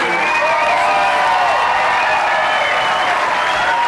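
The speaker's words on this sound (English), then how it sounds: "let's have another great round of applause for the great champion, Allison Fisher" Spectators at a 2006 pool semi-final in Lincoln City applaud champion Allison Fisher in a loud, sustained burst of clapping, with a few cheers and whoops mixed in.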